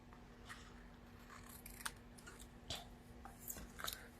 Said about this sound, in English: My scissors.